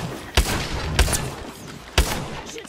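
Three sharp, loud gunshots in a battle royale video game, spaced about a second apart, each a distinct punchy crack over a steady background din.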